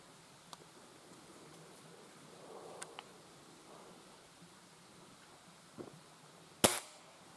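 A single sharp air rifle shot cracks out near the end of an otherwise quiet outdoor scene during night possum hunting, preceded by faint rustles and a few small clicks.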